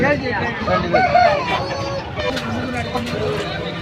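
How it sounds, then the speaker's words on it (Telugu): A Tamil Nadu fighting-breed rooster crows once nearby at a market, with a few clucks and other birds in the background. "తమిళనాడు రకానికి చెందిన కక్కెర పుంజు ఇది"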